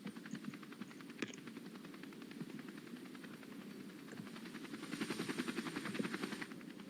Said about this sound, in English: I love the fact there's just 3 helicopters just going at the same area at this point.